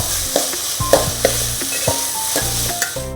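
Onions and tomatoes sauté in a pan for chicken dum biryani, a steady close sizzle broken by several sharp scrapes and knocks of a spoon stirring, with no talking.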